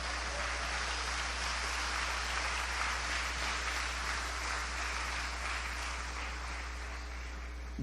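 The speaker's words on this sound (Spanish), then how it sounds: "Dele un aplauso a Dios." Church congregation applauding during a sermon, a faint, distant, even wash of clapping under a constant low hum, sustained with little change for about eight seconds.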